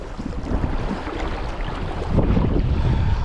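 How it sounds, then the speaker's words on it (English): Steady wind rushing and buffeting a microphone on the bank of the River Spey, broadband and loud throughout, with a stronger gust near the end and no talking. "Wind."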